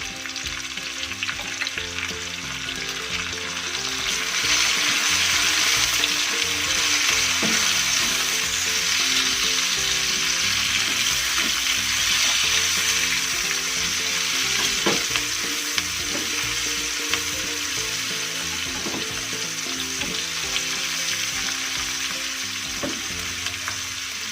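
Red chili, green chili and tomato hiss and sizzle in hot oil in a pan, a loud, continuous fry broken by occasional scraping stirs and clinks.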